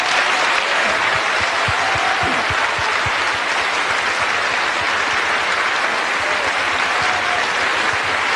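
Studio audience on a live television show applauds a singer, a loud, sustained burst of clapping with a few distinct claps standing out early on.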